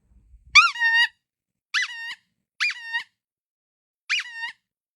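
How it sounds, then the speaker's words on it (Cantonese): A small hand-squeezed toy horn, tested outdoors, gives four short, thin squeaks in an uneven rhythm, each brief and nasal, with near silence between them. "我哋試試隻喇叭係咪同汽車喇叭咁大聲"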